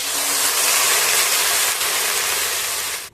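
A loud, steady rushing hiss like water hitting a hot pan, continuous throughout and fading abruptly at the end.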